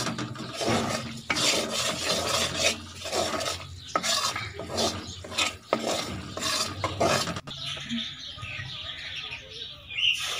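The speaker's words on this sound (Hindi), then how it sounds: "इसको हिला के अच्छे तरीके से मिक्स कर लें ताकि इसमें गुठली ना बने।" Raw turmeric halwa stirred in a pan, with bursts of scraping and rubbing from a spoon working the thick mixture, uneven strokes close up, easing off into quieter background toward the end.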